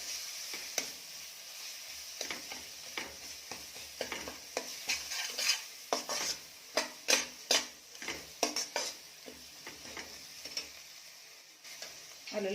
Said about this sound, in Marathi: यामध्ये टाकायचे आहे आलं लसूण पेस्ट. ही पण छान परतून घ्यायची आहे.